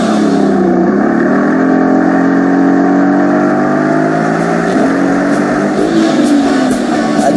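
Sports car engine from a Mercedes-AMG GT S versus Porsche 911 race, loud and close, revving hard with rising pitch sweeps and sharp drops at each quick gear change, continuous throughout.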